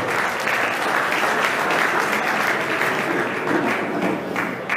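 Spectators at a 2016 WABV amateur boxing championship give sustained applause as fighters are introduced, a thick, even patter of many hands, loud and close throughout.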